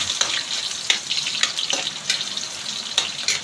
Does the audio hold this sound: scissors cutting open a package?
no